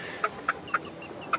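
Chickens in a backyard coop give short, evenly spaced clucks, four soft pulses about a quarter second apart over a quiet outdoor background.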